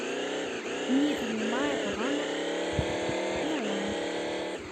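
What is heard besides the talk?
motorcycle engine revving in Chicken Gun video game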